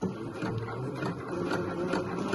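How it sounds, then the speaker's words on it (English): An overlocker stitching a seam on a Breton stripe tee, a quiet, rapid mechanical whirring with a fast regular chatter, running steadily for a couple of seconds. "and then I shall go and overlock it."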